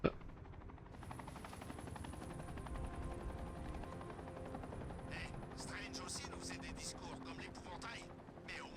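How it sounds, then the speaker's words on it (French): A helicopter flies in the Batman: Arkham Knight video game, a steady whirring rotor drone throughout, joined in the second half by sharp bursts of gunfire-like cracks, under game sound. "Balade dans l'hélicoptère."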